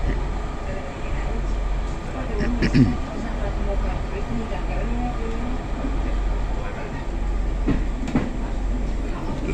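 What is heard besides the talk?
train riding on rails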